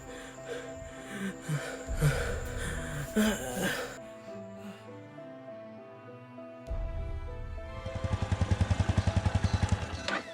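A motorcycle engine rumbles close by, settling into a steady, throbbing idle with rapid rhythmic pulses toward the end.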